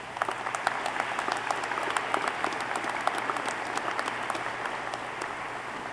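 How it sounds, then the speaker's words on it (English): Audience applause at a Truth and Reconciliation Commission of Canada signing event, honouring Deborah Young of the University of Manitoba: steady, dense clapping from a sizable crowd, sustained evenly throughout without voices. "She deserves a great round of applause"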